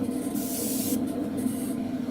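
A short, close airbrush spraying Model Air black paint gives a steady airy hiss that comes in bursts, briefly dropping off and picking up again, with no talking.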